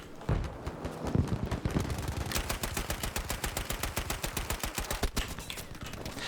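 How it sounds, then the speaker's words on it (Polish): Rapid bursts of gunfire crack in quick succession, dense and sustained like automatic weapons in a Battlefield V team deathmatch on the Solomon Islands map, with a few heavier shots standing out. "Że trzy strzały z daleka"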